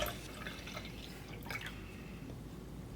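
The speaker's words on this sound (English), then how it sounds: "So I'm just gonna pour it in here," Pumped breast milk is poured into a container, giving a faint, steady liquid trickle and drip against low background hiss, with no talk over it.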